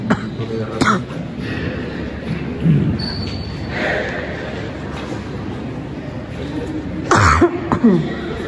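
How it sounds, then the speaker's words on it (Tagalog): Several brief coughs and throat clearings, one early and a louder cluster near the end, over steady background noise and faint talk. "Ubo pa ako."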